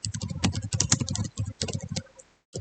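Rapid clicking keystrokes on a computer keyboard while code is entered, a quick close burst of taps that thins out and stops after about two seconds.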